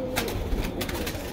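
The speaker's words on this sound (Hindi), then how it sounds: "ये देखो कबूतर, देखो कबूतर बहुत सारे हैं भाई" Several pigeons at a pigeon sale, a mixed flock of border, kalanch and cross breeds, coo steadily close by. Their low coos overlap into a continuous, fairly loud murmur with no clear pauses.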